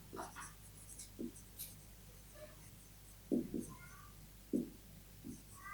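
Soft, scattered scratches of writing on a board during a physics class on electrostatic potential, faint short strokes with quiet pauses between them and no talk.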